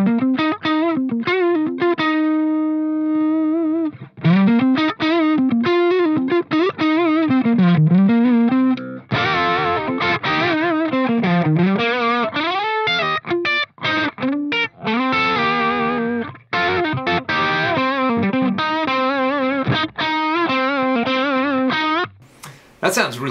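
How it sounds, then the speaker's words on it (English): Electric guitar played through a Boss Katana amp head with boost added for a bluesy overdrive tone, bending, sustained notes and quick licks, loud and up close with no talking. "add a little bit of this boost just to see if we can sort of get into bluesy drive"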